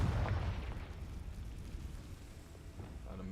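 A Confringo spell explodes in the video game Hogwarts Legacy, a deep booming blast that hits at the start and rumbles away over a few seconds.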